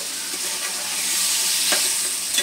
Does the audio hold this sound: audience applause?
no